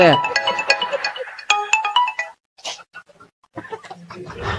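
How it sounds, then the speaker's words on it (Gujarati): A mobile phone rings with a bright electronic ringtone melody, loud and close, playing in bursts separated by short gaps. "ફોન આવે તાર દાદા ને કોક નો"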